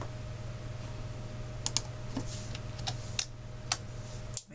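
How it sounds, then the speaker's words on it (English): Typing on a computer keyboard produces a run of light, irregular key clicks, some crisper than others, over a steady low electrical hum. "If I type hello world and press play"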